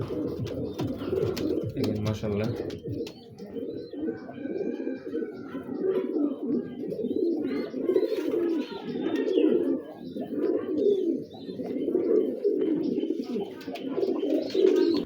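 A loft of about thirty-five pigeons keeps up steady, overlapping low cooing close by, with a brief spoken exclamation near the start.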